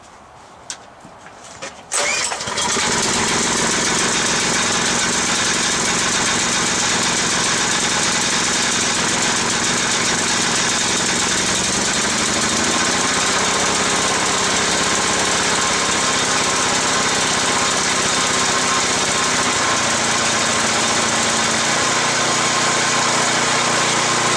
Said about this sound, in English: So there's a brand new Predator engine from Harbor Freight. My dad just got it put on the tiller here this morning.